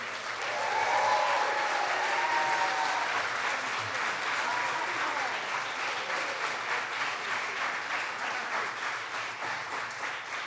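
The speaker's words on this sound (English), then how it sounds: "Let's give a round of applause" Sustained applause from a large crowd, loud at first and continuing evenly throughout.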